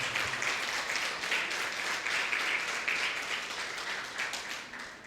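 A church congregation applauding together, a dense, sustained wash of clapping from many hands that holds steady for several seconds, with faint voices mixed in.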